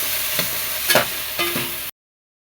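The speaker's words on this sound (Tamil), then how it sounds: "எல்லாத்தையும் கொஞ்சம் எண்ணெய் ஊற்றி நல்லா வதக்கிக்கணும்." Coconut, garlic, tamarind and curry leaves sauté in oil with a steady sizzle, punctuated by three or four scraping stir strokes before cutting off abruptly.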